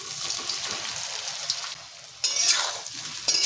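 Fenugreek muthiya dumplings dropped into hot tempering oil and stirred, crackling and sizzling loudly with a sharp surge of frying midway as more goes into the pan.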